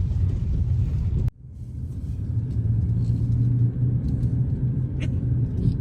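A car drives along a rough, rutted road after rain, giving a steady low engine rumble with road noise throughout and one brief sharp knock near the start.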